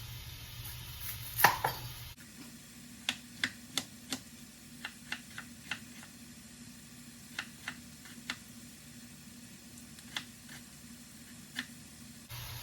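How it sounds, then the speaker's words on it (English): Sweet onions chopped with a knife on a board, a series of sharp, separate knife taps in irregular bursts over a low steady background hum, close and fairly quiet. "Now I'm going to chop up 2 onions to go in it."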